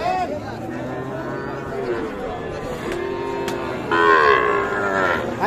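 Young bull calves moo loudly nearby at a cattle market, several drawn-out calls overlapping amid a busy crowd murmur, with a louder bellow toward the end.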